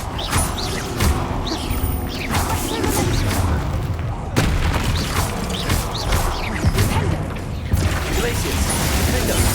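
Bombarda blasting spells explode in Hogwarts Legacy, giving a series of booming, crashing impacts with mechanical clatter layered over a busy combat soundscape. The blasts come at irregular intervals at a fairly loud, constant level.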